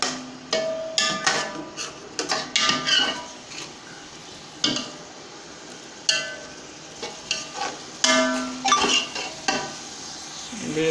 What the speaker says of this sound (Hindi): अच्छी तरीके से इसको भूनना है